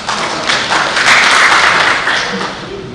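Audience at a youth public speaking competition claps to welcome the next speaker, a dense, steady wash of many hands lasting a few seconds with no voices over it.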